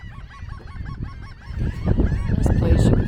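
Birds at Oso Bay in the morning honk repeatedly, a flock of goose-like calls overlapping in quick, uneven bursts, moderately close and growing louder and busier toward the end over a rumbling outdoor background.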